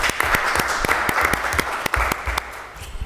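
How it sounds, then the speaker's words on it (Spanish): Audience at a diploma ceremony for a specialization in creative cities and territories applauds steadily, a dense wash of clapping with a few sharper individual claps, close and fairly loud throughout. "Un fuerte aplauso también para ellos."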